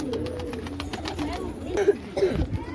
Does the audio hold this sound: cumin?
no